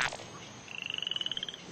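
Frog croaking in a regular pulsed series of about fifteen short, evenly spaced calls, fairly clear against quiet background, with no talk.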